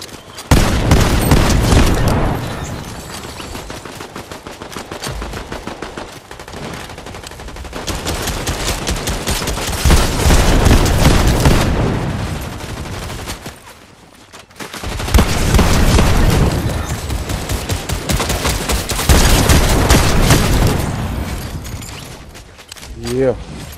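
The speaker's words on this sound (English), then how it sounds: "Bullets." Loud, dense automatic gunfire from the video game Fortnite, sustained bursts that pause briefly around the middle before resuming, with voices heard among the shots.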